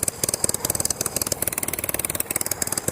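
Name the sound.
motor running rough and rich, possible carburetor problem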